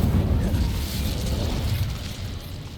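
A fiery Incendio spell bursts out in Hogwarts Legacy, a loud, dense whoosh of roaring flame that stays strong across the whole moment and thins slightly toward the end.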